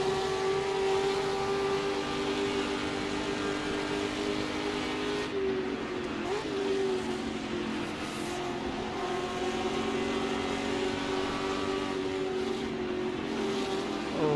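Ford GT40 race car in Assetto Corsa at a 1966 Spa endurance race, its engine a loud, sustained, close drone that holds pitch with slight dips, with other cars faintly audible around it.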